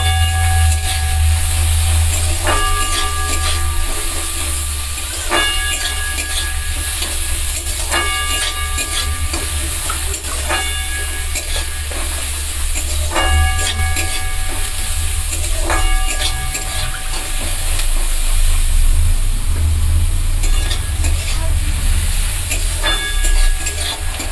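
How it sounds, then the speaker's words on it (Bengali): Chopped onions fry in hot oil with fenugreek seeds, producing a steady, loud sizzling hiss that runs unbroken, while a faint repeating tonal pattern recurs in the background. "পেঁয়াজটা দিয়ে আমি একটু ভাজা ভাজা করে নেব।"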